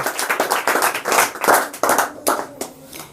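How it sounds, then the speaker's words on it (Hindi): Students in a classroom quiz clap for a correct answer, a ragged burst of hand claps with sharp individual slaps that thins out and ends in a few scattered claps. "बैठ जाइए, ताली बजाइए।"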